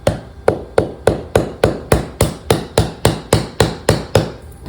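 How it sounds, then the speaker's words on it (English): A mallet strikes a self-tapping suture anchor into a bone model, sixteen or so sharp, evenly spaced knocks landing about three per second, close and loud with no talk. "we're gonna set this anchor in the bone. I've got a mallet here."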